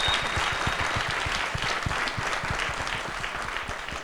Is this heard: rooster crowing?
no